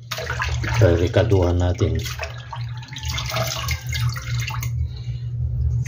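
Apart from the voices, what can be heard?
vinegar poured over dried tilapia for soaking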